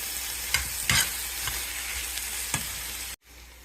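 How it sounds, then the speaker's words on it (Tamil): Tomatoes sizzle steadily in hot oil for paneer bhurji. A few sharp clinks of a spoon stirring the pan cut through, and the sound ends abruptly in a brief drop to silence. "இப்போ ஒரு 2 தக்காளி போட்டுக்கலாம். இதையும் அப்படியே எண்ணெயில் வதங்கட்டும்."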